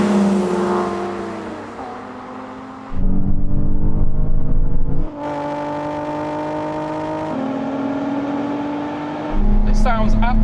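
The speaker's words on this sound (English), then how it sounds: "Oh, look at that 370 go." A Nissan 370Z accelerates hard during a race, its engine note climbing through gears with abrupt shifts, loud and close, alongside other car sounds.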